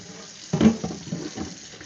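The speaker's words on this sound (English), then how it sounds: "we're just going to do a little rinse of these dishes" Tap water runs into a kitchen sink while dishes are rinsed, a soft broadband splash that surges in about halfway through and continues unevenly with clattering bursts, close by and moderately quiet.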